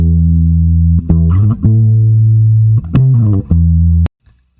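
A bass guitar played on its bridge pickup and recorded into a Boss BR-800 plays a few sustained low notes with plucked attacks and slides between them, then stops abruptly with a faint click.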